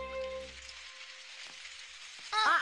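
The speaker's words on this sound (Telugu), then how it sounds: "అరే వర్షం ఇంటిలో కురుస్తోంది," Cartoon sound effect of rain pouring down inside a house, a steady hissing patter of drops that runs throughout, ending with a sudden louder burst of sound.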